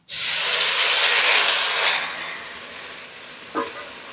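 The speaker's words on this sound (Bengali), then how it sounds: "পরিমাণ মতন জল দিয়ে দেবো" Water poured into a hot pan of egg curry masala erupts in a loud, bright hiss of steam and sizzle that gradually fades to a softer bubbling, with a small clink near the end.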